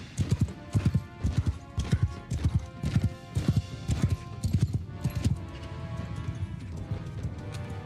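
Horse hooves clip-clop in a quick, regular galloping rhythm in the Old Realms fantasy game, loud and close at first, then fading to a softer patter.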